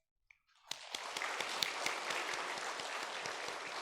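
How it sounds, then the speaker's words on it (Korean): A church congregation at a Sunday service claps together in welcome, a sustained wash of applause building after a few scattered early claps and continuing steadily at moderate distance. "잠시 일어나 주시면 우리 박수로 환영하겠습니다."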